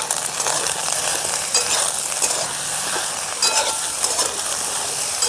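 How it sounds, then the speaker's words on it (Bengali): Eggplant pieces fry and are stirred in a hot pan, a loud, continuous close sizzle with scraping movement throughout. "একটু নাড়াচাড়া করে ঢাকা দিয়ে ভেজে নেব, যাতে করে সেদ্ধও হয়ে যায় আর ভাজাও হয়ে যায়।"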